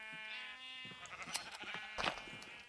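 Sheep in the Minecraft video game bleat in a couple of short, nasal calls at moderate volume over a soft steady background, followed by clicky game sounds and movement.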